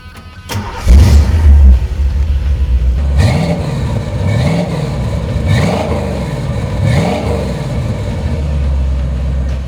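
A 1969 Ford Bronco 4X4 engine cranks and catches, then revs up and down several times in a loud, rumbling cycle before settling into a throaty idle.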